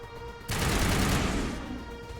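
Assault rifle fire from the Mass Effect video game, a sudden loud sustained burst starting after a brief quiet lead-in and tapering off near the end, heard alone.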